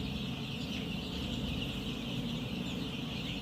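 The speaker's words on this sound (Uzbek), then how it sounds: "Andijon qora jo'jalarimiz xudo xolasa 10 kunlik bo'lib qoldi." Andijan black chicks, ten days old, chirp continuously as a dense flock, a steady bright twittering over a low rumbling background with no gaps.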